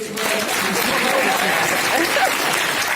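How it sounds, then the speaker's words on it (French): A room full of people claps steadily, a dense continuous patter of applause lasting the whole moment. "On applaudit pour l'avocat."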